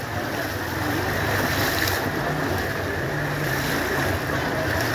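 Floodwater rushes through a town's business district in Garissa, Kenya, after heavy rains, a steady, loud churning wash that holds continuously throughout, with wind buffeting the microphone.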